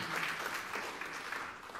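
A church congregation applauds during a sermon, a continuous even patter of many hands clapping, fairly distant and soft.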